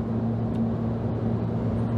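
A car's engine drones steadily at about 3,500 revs at motorway speed, a constant low hum with road rumble heard from inside the cabin, no voices.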